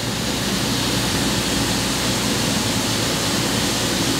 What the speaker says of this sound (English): We've got flood coolant going in there, flushing out those chips.